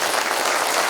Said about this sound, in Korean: 한번 박수 좀 부탁드리겠습니다